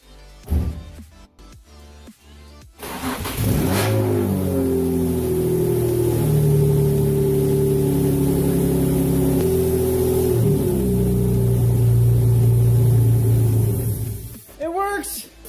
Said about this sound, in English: This is the official first start on the plenum.